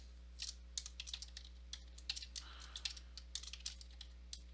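Quick, irregular clicks of fingers typing on a computer keyboard, close and fairly faint, with a soft steady electrical hum underneath.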